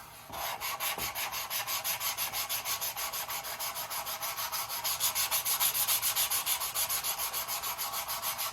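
Steady rhythmic sanding strokes on the wooden fuselage of a Carl Goldberg Tiger 2 model airplane, close and even, continuing alone for several seconds.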